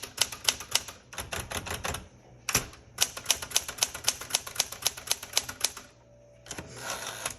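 Rapid keystrokes clatter on a 1973 Smith Corona Galaxie Twelve typewriter in close, crisp bursts, pausing briefly before resuming, with a carriage-return zip and bell near the end.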